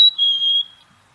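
A single clear, high whistled bird call rings out, steady and slightly falling, then fades after under a second in an otherwise quiet setting.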